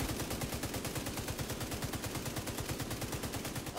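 Sustained automatic assault-rifle fire from The Division 2 rattles continuously in a fast, even rhythm, close and dense, with no voices over it.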